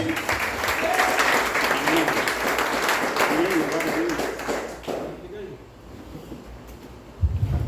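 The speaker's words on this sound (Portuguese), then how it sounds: "A igreja aplauda ao Senhor bem forte." Church congregation applauding loudly during a celebration service, a dense wash of many hands for about five seconds, then fading into quieter room sound with a voice over it.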